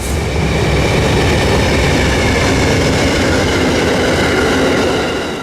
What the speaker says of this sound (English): Amtrak train number 98, the northbound Silver Meteor, was charging through Folkston